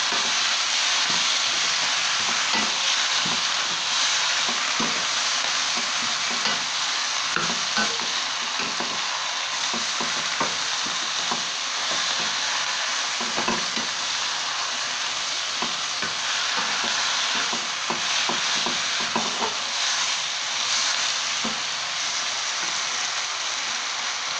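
Chinese kale and crispy pork stir-fried in a hot pan, with a steady loud sizzle and frying hiss running throughout, broken by frequent scraping stirs and clatters, close and with no talking.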